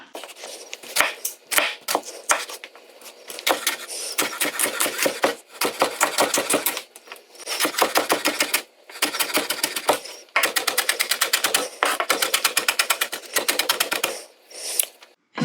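A knife chops loose vegetables on a cutting board for a summer squash ratatouille, giving close, crisp rapid bursts of even strokes separated by brief pauses, with no talking.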